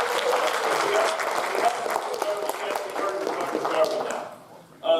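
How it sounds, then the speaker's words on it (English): A crowd at a lecture applauds steadily with dense, continuous clapping that holds for several seconds before thinning out and fading near the end. "So let's give another round of applause."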